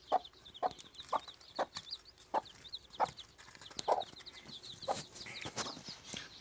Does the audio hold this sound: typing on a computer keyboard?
no